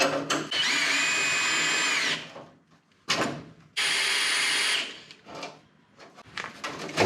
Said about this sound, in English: 3/8 wrench